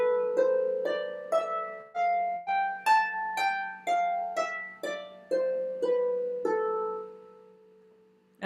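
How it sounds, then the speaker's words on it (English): A natural minor (Aeolian) scale starting and ending on A, played as a steady series of single plucked notes rising and then falling, each note ringing briefly, clear and alone. "So it's the scale that starts and ends on A"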